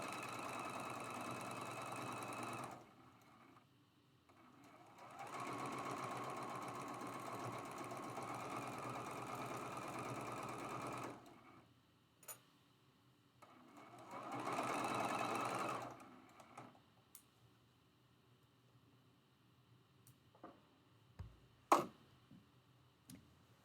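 Stitching a rail fence quilt block seam, a sewing machine runs in several separate bursts of steady mechanical whirring, with quiet pauses and a few sharp clicks between them.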